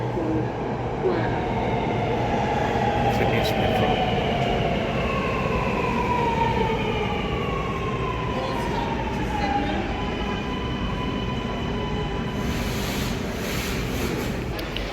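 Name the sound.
train arriving at metro station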